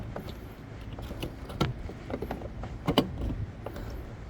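A headlight bulb is twisted a quarter turn and locked into the plastic housing of a 2004-2008 Ford F150, giving soft scraping clicks and a couple of sharper snaps, close and quiet.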